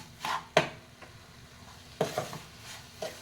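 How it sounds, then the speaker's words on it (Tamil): Carrot halwa with sugar being stirred in a pan, a few sharp scraping strokes and clinks spaced apart over quiet sizzling. "எல்லா சேர்த்து நல்லா மிக்ஸ் பண்ணிட்டுக்கலாம் சக்கரை சர்க்கரை போட்ட உடனே கொஞ்சம் நல்லா சர்க்கரை மெல்ட் ஆகும்"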